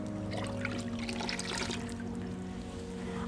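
Half a litre of water poured while mixing a homemade car wash solution, a steady close trickling and splashing that runs without a break through the whole stretch over a low background hum.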